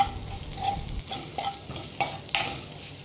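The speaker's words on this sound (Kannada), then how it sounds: "ಅದನ್ನು ಇದಕ್ಕೆ ಹಾಕಿ ಸರಿ ಹುರಿಬೇಕು" Roasted spice powder stirred into okra frying in a pan, with a soft sizzle under irregular scrapes and clinks of a spoon against the pan, close and alone.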